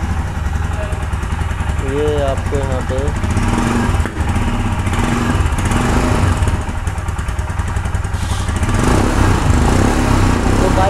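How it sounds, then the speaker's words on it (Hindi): Royal Enfield Himalayan 2021 BS6 motorcycle idling with a steady, loud exhaust thrum held throughout, a brief dip near the middle, while someone talks over it. "इस बाइक को स्टार्ट करते हैं और इसका आपको एग्जॉस्ट सुनाते हैं, इसका एग्जॉस्ट का साउंड कैसा है।"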